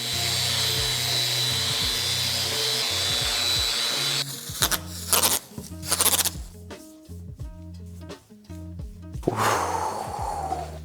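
A power tool sands back a lye-treated wood desk surface, starting as a steady whir and then breaking into choppy bursts and stops, close and fairly loud.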